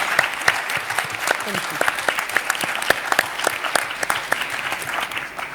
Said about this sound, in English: I think they all deserve a very big round of applause